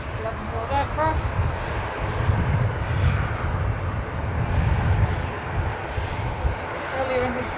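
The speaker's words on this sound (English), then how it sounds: "we've now got on the runway the Origny ATR 72-600 going to Guernsey" Aurigny ATR 72-600 turboprop airliner bound for Guernsey on the runway at Manchester Airport, its broad steady engine roar droning continuously at moderate distance, with faint chatter underneath.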